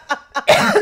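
Two short, breathy coughs followed by a louder, rougher burst of coughing, close to the microphone.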